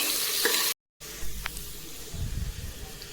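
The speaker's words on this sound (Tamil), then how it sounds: "ஆனியன் நல்லா கோல்டன் ப்ரௌன் கலர் அளவுக்கு நல்லா ஃப்ரை ஆகிட்டுருக்கு" Onions fry in a pan for vegetable biryani, giving a steady close sizzle broken by a brief gap, then scraping stir strokes under the hiss, with no talk over it.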